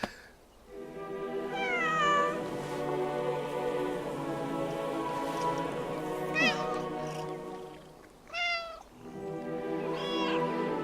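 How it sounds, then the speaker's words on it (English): A cat meows repeatedly in the video game 11-11 Memories Retold. Several drawn-out, rising and falling cries are spaced over a soft background that sounds like rain, with speech in between. "Eine Katze."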